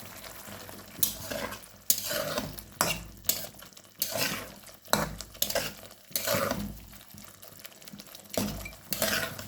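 Pieces of rohu fish being stirred and fried with spices in a pan, with intermittent scraping strokes and soft sizzling; no one talks.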